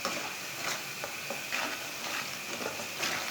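Spices frying with ridge gourd in a pan, a soft continuous sizzle broken by light scraping stirs at a slow, irregular rhythm, close and fairly quiet, no voices.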